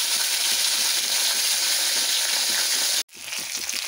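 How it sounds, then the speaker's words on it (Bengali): Pona (rohu) fish sizzles loudly as it fries in white oil in a wok for a tomato jhal. A steady, close hiss runs throughout, cut off by a sudden brief drop near the end. "মাছটাকে আমি লাল লাল করে ভেজে নিয়েছি"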